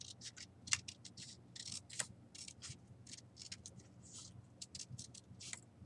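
Scissors snipping through paper to cut out a shape, a quick irregular series of soft close crisp cuts with faint rustling, no talking.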